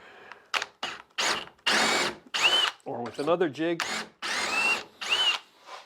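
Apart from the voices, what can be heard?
drilling wood with a half-inch bit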